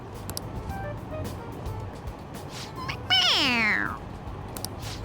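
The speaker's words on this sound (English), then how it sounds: "It's a stuffed animal. Yeah, it's just a toy. It meows when you press on its head." A stuffed toy cat in Persona 5 Royal gives a single loud, bending meow when pressed, cutting in over quieter game background sounds.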